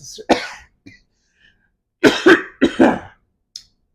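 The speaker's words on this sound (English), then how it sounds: "after I cough a few times" A few close, loud coughs and throat clearings in bursts separated by short silences, with no talking.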